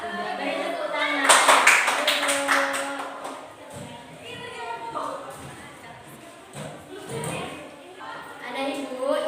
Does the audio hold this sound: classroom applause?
yes